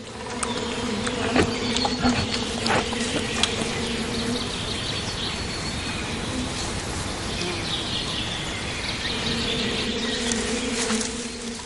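Bees buzz around honey hives in the Russian wilderness, a steady close drone of many insects with individual bees passing near, and faint birdsong in the background.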